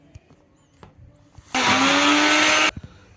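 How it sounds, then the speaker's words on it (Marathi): Mixer grinder whirring for about a second as it grinds a spice paste with cashews for a red gravy, a loud steady motor burst between quieter kitchen knocks. "त्या घालून मी जरा पुन्हा मिक्सरमध्ये वाटण बारीक वाटून घेणार आहे"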